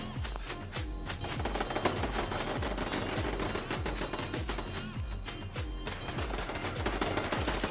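Turrets fire continuously in Fallout 76, producing a dense, rapid stream of loud automatic shots with a rhythmic thumping pulse underneath, sustained without pause.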